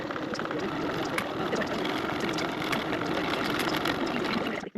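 A sewing machine runs steadily while top stitching a bag flap with a 1/8 inch seam allowance, giving a fast continuous mechanical whirr and needle chatter that stops at the end.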